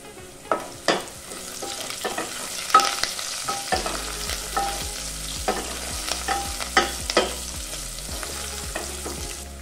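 Onions, curry leaves and asafoetida frying in a pan for a fresh coconut sambar, with steady sizzling and repeated clinks and scrapes of stirring throughout, no talking.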